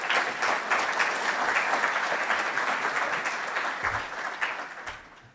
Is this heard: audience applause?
yes